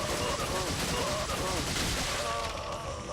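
Gunfire in the video game Resident Evil 4: a steady, dense wash of rapid shots and loud game noise fills the whole stretch, fading slightly at the end.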